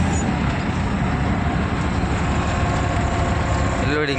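A pickup truck pulls away on the road, its engine rumbling steadily with broadband road and traffic noise throughout; a brief voice is heard near the end.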